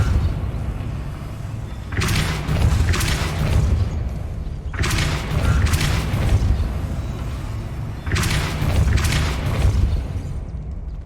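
Depulso spell cast in the Hogwarts Legacy video game: three heavy booming blasts, each a whooshing burst with a rumbling low tail, spaced a few seconds apart, loud and alone.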